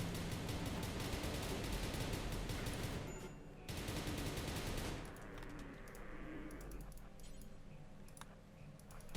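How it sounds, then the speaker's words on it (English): Rapid bursts of video game gunfire in Rimworld, a loud dense fusillade of automatic shots that drops out briefly, resumes, then thins into scattered, sharper individual shots toward the end. "Why are you shooting that?"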